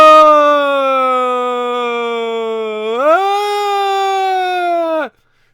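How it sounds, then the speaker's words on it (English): A film monster's single sustained wailing scream holds a steady pitch, rises sharply partway through like an ambulance siren, then cuts off abruptly into silence. "Sounds like somebody's doing an imitation of a fucking ambulance."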